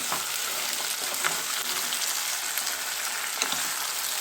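Brinjal pieces fry in hot oil with a steady, dense sizzle and faint crackle. It holds at an even loudness from start to finish, with no talking over it.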